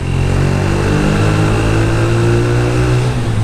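A Yamaha YBR 125 commuter motorcycle fitted with an aftermarket exhaust drones steadily while riding, its single-cylinder engine note loud and close with slight pitch shifts as the revs change.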